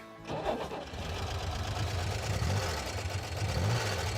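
A car engine cranks and catches, then settles into a steady, throbbing idle with a low thumping pulse and a somewhat Volkswagen-like character, heard up close in a custom garage.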